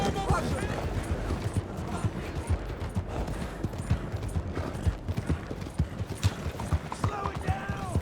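Horse hooves clip-clop in a steady walking rhythm in Red Dead Redemption 2, close and clear over continuous game background sound, with a few faint tonal creaks.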